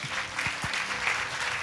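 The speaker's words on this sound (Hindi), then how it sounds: "ताली बजाएंगे" Congregation at a Sunday church service clapping for the Lord, a steady burst of applause with a couple of low thumps near the start, close and even throughout.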